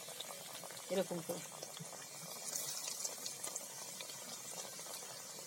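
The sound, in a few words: pumpkin papad frying in oil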